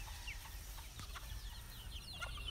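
Chickens cluck softly against a steady low rumble of background noise outdoors, with scattered short calls that stay faint and somewhat distant.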